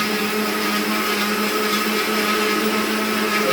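A blender grinds raw rice into flour with a loud, continuous motor whine and gritty churning that holds steady throughout, close up and without talk.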